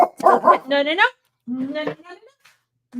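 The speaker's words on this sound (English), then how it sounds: "she's my little guard dog" Small dog barking at close range, a few quick sharp yaps followed by higher whining yelps and a brief whimper, with a person speaking briefly over it.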